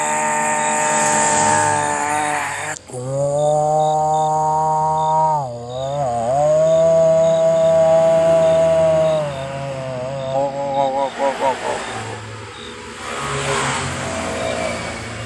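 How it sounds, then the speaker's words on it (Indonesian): A bus engine revs and whines loudly, its pitch rising and dipping, then it sputters in uneven bursts and dies away, used as a sound effect in a late-night horror story. "Tiba-tiba bisnya macet, mati."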